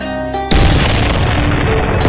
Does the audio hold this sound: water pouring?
no